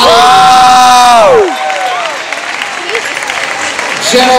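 A crowd at a state gymnastics meet applauds and cheers for the all-around state champion, loud and sustained, with a voice over a public address system at the start before the clapping carries on alone.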